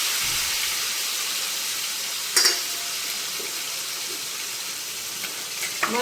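Potatoes fry in hot oil with mustard seeds and asafoetida, making a steady, close sizzling hiss that stays loud throughout, with a couple of brief clinks from stirring.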